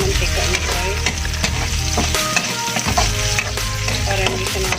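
Bicol Express with string beans fries in oil, making a loud sizzle with crackling pops while the pan is stirred, steady and close with no voices.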